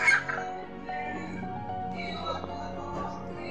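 A hen settled in a nest gives soft, low clucks and murmurs, faint and close, with a person speaking quietly alongside.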